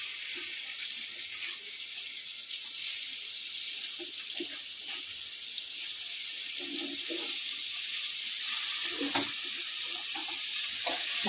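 Bitter gourd (karela) sizzling in hot oil tempered with mustard seeds, cumin and asafoetida, a steady broad hiss with a few soft stirring knocks, close and continuous with no talking.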